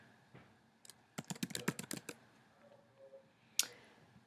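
A computer keyboard clacks close by in a quick burst of keystrokes as a username and password are entered. Quieter pauses separate the burst from a single sharp click toward the end.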